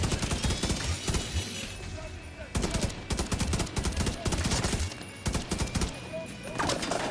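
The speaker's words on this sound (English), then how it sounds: "Little burst fire" Repeated short bursts of gunfire from a video game, sharp clustered shots coming in rapid groups with brief pauses between, loud and close over a busy battle background.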